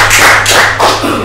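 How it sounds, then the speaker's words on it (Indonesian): A short burst of hand clapping from a small group at a panel discussion, several quick claps close by, loud and brief. "Tepuk tangan dulu untuk"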